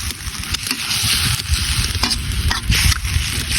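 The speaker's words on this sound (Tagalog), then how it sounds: "Haluin muna natin yan." A pan of adobong guya being stirred while it fries, with a broad steady sizzle and scraping, clattering stirring strokes close by, no voices.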